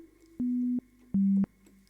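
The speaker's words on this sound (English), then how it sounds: "This is the Sine 110 built-in sample." GarageBand's AU Sampler playing its default built-in Sine 110 sample: two steady, clean low sine notes, each held about a third of a second with a short gap between, each starting and stopping with a soft click, alone and clear.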